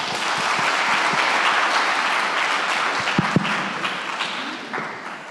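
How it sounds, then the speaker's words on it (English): An audience at a conference claps steadily to welcome two speakers to the stage, a full wash of applause lasting throughout with a few louder individual claps and thumps near the end. "So please welcome them with clapping your hands."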